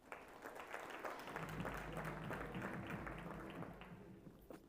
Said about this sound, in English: please give the team and CEO a round of applause.